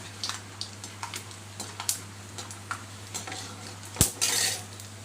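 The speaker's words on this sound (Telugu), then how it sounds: "నేను ఆయిల్ వేసి శనగపిండి ఇలా వేయించుకుంటున్నాను." Gram flour fries in oil while a spoon stirs it in the pan, heard as a series of light clinks and scrapes over a faint sizzle and low hum, ending with a louder clank and a brief hiss.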